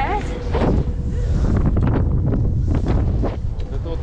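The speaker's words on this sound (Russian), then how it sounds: "Надеюсь, меня слышно из-за ветра." Strong wind on a ski slope near Kirovsk during a northern ski marathon trip: continuous loud gusting and rumbling buffeting the microphone, with people talking underneath it.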